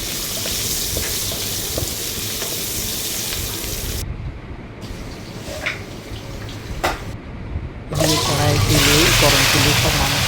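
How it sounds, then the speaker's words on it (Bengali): Boiled, peeled small potatoes fry with salt and turmeric in a pan, a steady sizzle with stirring, brief gaps midway, then a louder burst of frying. "ছোট আলু সিদ্ধ করে খোসা ছাড়িয়ে নিচ্ছি নুন হলুদ দিয়ে ভেজে"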